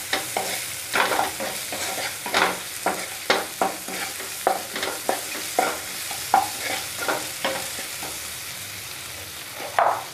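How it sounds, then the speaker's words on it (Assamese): Ginger and vegetables sizzle in a pan while a utensil stirs them for khichdi, scraping in short, regular strokes close by over a steady frying hiss, with no talking. "এতিয়া ভালদৰে লৰাই দিম"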